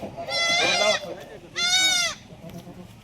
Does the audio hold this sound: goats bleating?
yes